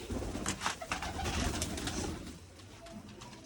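Pigeons coo in low, repeated throaty bursts, fairly close, with a steady rustle of ambient noise underneath.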